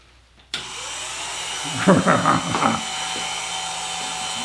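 A grinder on a Bridgeport milling machine switches on and runs with a steady, loud mechanical whine from start to end, with a short burst of clattering or voice-like sounds in the middle.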